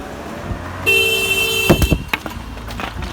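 A man in Poland strikes a parked car, landing several sharp, close thuds in quick succession while a car horn blares a steady tone just before and through the blows; faint voices and street noise sit underneath.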